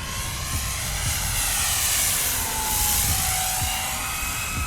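Giant RC P-51 Mustang model plane flying at half throttle: a steady, loud engine drone with a shifting whine, continuous throughout.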